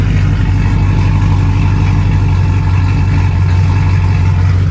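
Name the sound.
pickup truck engine idling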